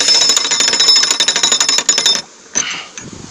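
Rapid metallic ratcheting clicks in a steady rhythm for about two seconds as narrowboat lock paddles are wound up on a UK canal, close and loud, then a few quieter knocks.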